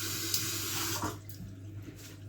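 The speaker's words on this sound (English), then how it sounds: "all we're going to use is a little bit of cold water," Cold water runs from a kitchen tap into a sink in a steady, close gushing stream that eases and changes tone about halfway through, with no voices.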